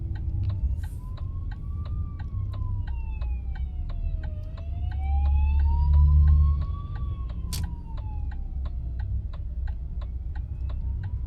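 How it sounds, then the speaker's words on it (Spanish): A fire engine's wailing siren rises and falls steadily as it passes a truck on the road, heard over the truck's low engine rumble and a steady rhythmic ticking. "Voy a dejar pasar el camión de los bomberos."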